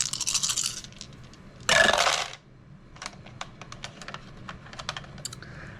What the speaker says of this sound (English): I am going to roll. These are his dice.